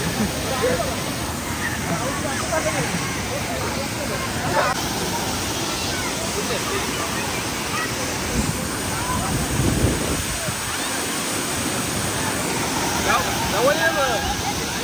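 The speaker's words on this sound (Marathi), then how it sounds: "फुल प्रेशरला पाणी चालू आहे." A waterfall near the Jambhe dam pours at full pressure, a loud, steady broadband roar with gusts of wind buffeting the microphone throughout.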